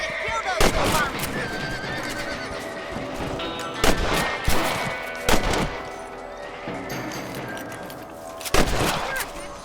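Rifle shots in Red Dead Redemption ring out as sharp, loud cracks spaced a few seconds apart, with a horse whinnying, hooves and a speaking voice underneath.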